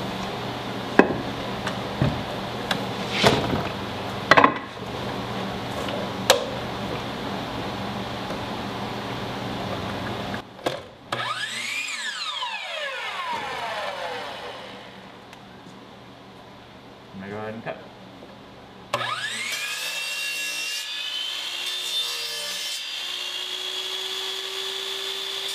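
A saw blade bites through wood for canvas stretcher bars in a workshop, with bursts of whining, rising cutting noise, sharp knocks and pauses between separate cuts.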